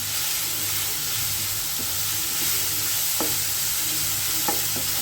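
Chopped cluster beans (chavalikayi) are stirred and roasted in a hot pan, making a steady soft sizzle with a few sharp scrapes and taps of the spoon against the pan.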